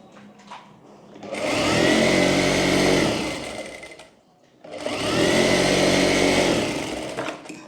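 A sewing machine stitches a kurti in two loud, steady whirring runs of about two and three seconds, separated by a brief pause.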